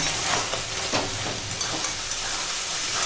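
Loitta fish fries in a pan while being stirred, a continuous close sizzle with a faint rhythmic pulsing from the repeated stirring and no talk.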